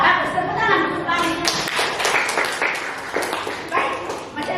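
Students in an Indonesian classroom clap together in a burst of quick, uneven applause, with a voice briefly heard alongside.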